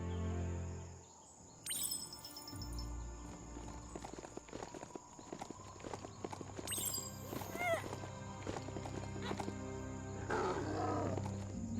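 A large hoofed Kamonu creature in the video game Biomutant, heard as quiet clip-clopping hoofbeats with occasional snorts and low growls over faint outdoor game ambience.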